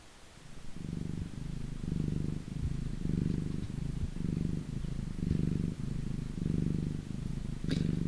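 A cat's steady purr close to the microphone, rhythmic low rumbling pulses about every half second that continue for several seconds, with a faint click near the end.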